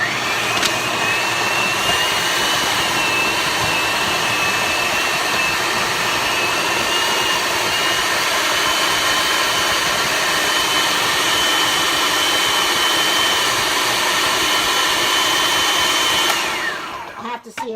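A blender whirs loud and steady, mixing a thick, sticky raw peanut butter ball mixture, a sustained close motor drone that cuts off near the end, with no voices.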